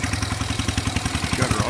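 A 1947 Gibson Model D lever-steer tractor engine runs at idle with a steady, fast, even chugging pulse and clatter, loud and close, with no talk over it.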